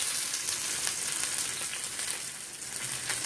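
Chicken pieces sizzle in hot oil in a pan, a steady, close crackling hiss with small pops, with no talking.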